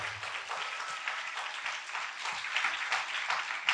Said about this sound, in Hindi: उनके लिए जोरदार तालियां बजाएंगे जो टाइम पर आए थे